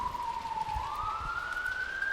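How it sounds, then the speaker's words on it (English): A distant police siren from the video game Noir Storm holds a steady, slowly rising wail over a low rumbling ambience, with no other voices. "I could sense the cacophony of the sirens in the distance"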